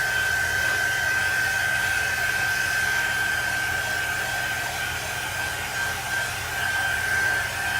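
A hair dryer blows continuously on chalk paste applied to a custom sign, a loud, close, unbroken whoosh with a steady whine and no talking.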